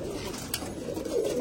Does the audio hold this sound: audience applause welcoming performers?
no